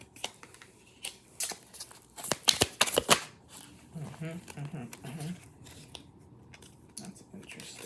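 A deck of tarot cards is shuffled up close in quick riffling bursts, loudest in a dense flurry early on, then softer slides and taps.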